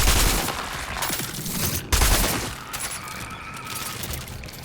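Rapid gunfire and impacts in the video game Cronos: The New Dawn, dense bursts that fill the clip and break off briefly partway through, loud and harsh with no talking over them.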